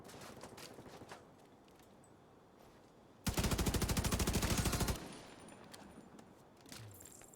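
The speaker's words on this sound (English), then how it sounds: "Where is this fucker that's shooting me?" An enemy unleashes a sustained burst of rapid automatic gunfire in The Division 2, lasting about two seconds and standing out loud above quieter background ambience.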